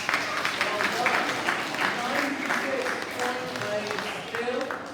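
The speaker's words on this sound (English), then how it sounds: "Give yourself a big round of applause" Primary school children at a celebration assembly give themselves a big round of applause, sustained dense clapping filling the hall, with faint voices threaded underneath.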